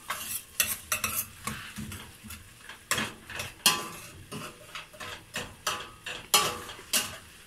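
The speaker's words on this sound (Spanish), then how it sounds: "Seguimos moviendo nuestro ají, nuestra base, ¿no?" Spoon scraping and stirring ají de pollo base in a pot, irregular clinks and scrapes repeating every half second or so over a faint sizzle, close and without talk.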